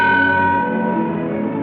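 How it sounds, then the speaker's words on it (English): A ship's bell sounds a single loud, clear strike, its bright metallic tone ringing out and slowly fading. "Sound the bell once."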